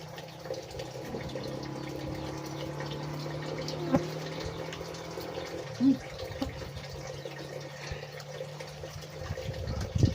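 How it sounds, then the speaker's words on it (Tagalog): Water running from a tap into a container, a steady low pouring with a faint hum and occasional small clunks. "Ang tubig ay pakunti-kunti."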